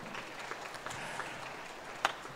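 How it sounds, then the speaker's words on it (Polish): An audience at a summer music concert claps for a pair of dancers, a thin, fairly faint patter of applause with one sharper clap standing out near the end. "Wielkie brawa dla nich."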